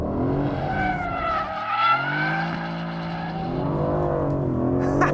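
A 2018 Aston Martin Vantage slides on a race track, its engine note rising and falling in long sweeping tones while the tyres squeal steadily, close and fairly loud, with no voices.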